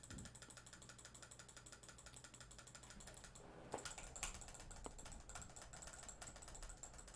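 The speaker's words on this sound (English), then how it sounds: "you can hear I'm clicking faster than the number of bullets coming out" Rapid mouse clicking while coding and playing Roblox, a dense run of small clicks alongside keyboard typing with steady background noise, no voices.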